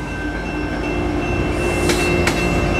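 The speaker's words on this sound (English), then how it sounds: "now I'm filming a train going by here at the railroad crossing" Bombardier 700 series commuter cars pass a railroad crossing, a steady rumble of rolling stock holding throughout with a couple of brief sharp clanks or squeals from the wheels near the end.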